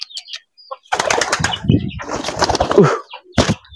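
Pigeons at a bird seller's stall in Pasar Batang, Brebes, give a few close bursts of wing flapping and feather rustling in quick succession, then a short final flutter.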